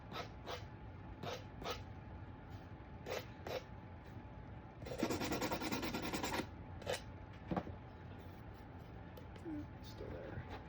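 Hand sanding along the edge of a Santa shelf sitter with a small piece of sandpaper, repeated short rubbing strokes with a longer burst of rasping midway, a voice speaking between strokes.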